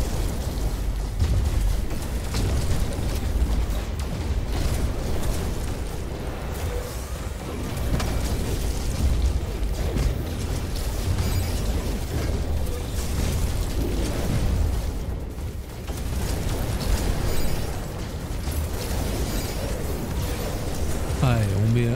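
Explosions go off in the video game No Man's Sky, a dense, continuous roar of blasts and game noise running steadily throughout, with a voice talking over it.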